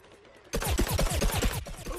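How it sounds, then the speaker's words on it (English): Rapid bursts of muffled, suppressed shots from a silenced pea cannon in the Plants vs. Zombies Garden Warfare video game, firing in a quick rhythmic string after a brief quiet start. "Now the Agent P has a suppressed silenced pea cannon."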